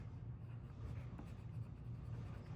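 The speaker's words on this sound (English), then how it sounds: "I'm kind of going to go all over with my Cherry Cobbler." Cherry Cobbler pencil crayon colouring across a card, a soft continuous scratchy rubbing of lead on paper, close and quiet with no talk.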